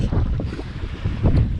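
Strong wind at sea buffets the microphone on a fishing boat, a loud, steady, gusty roar with low rumbling surges and no voices.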